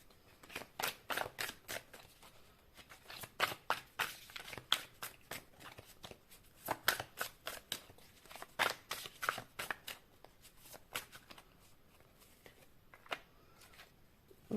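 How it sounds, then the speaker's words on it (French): Tarot cards being shuffled by hand, a long run of quick riffling snaps and papery flutters in uneven bursts, close and fairly quiet, with no one talking. "Je vais tirer d'autres cartes."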